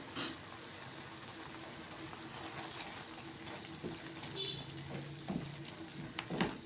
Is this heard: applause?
no